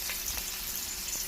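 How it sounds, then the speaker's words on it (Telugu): Rohu fish frying in hot oil in a pan, giving a steady, soft broadband sizzle that runs evenly through the whole moment with no voices over it. "ఇప్పుడు మనం ఫిష్ని ఫ్రై చేసుకుందాం."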